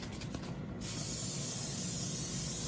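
A short hiss of canola oil cooking spray fires in one brief burst, then a longer continuous spray follows, close and fairly quiet.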